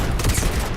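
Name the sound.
gunfire from a weapon in the video game Starfield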